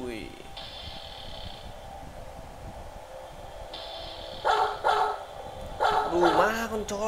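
A dog in a horror video game barks in a few sharp bursts over a steady background drone, with tonal game sounds earlier and a person talking.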